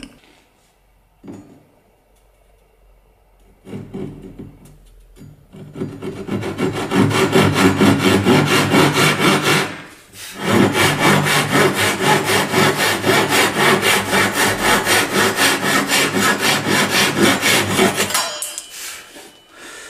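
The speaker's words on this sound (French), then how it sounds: "je vais mettre un coup de scie le plus près possible du trait" Steady back-and-forth sawing through wood, a hand saw rasping in continuous strokes close to a marked line, loud and close, with a brief pause midway before resuming.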